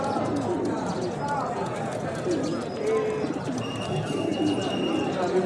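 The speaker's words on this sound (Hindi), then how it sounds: "बाकी ये कबूतर भी इनके पास बैठे हैं" Pigeons coo softly amid a busy outdoor pigeon market in Rahim Yar Khan, with people talking nearby and occasional flutters and footsteps.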